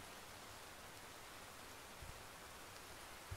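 Rain falling in the video game Minecraft, a soft, even hiss of steady downpour that stays faint and unbroken, with no voices over it.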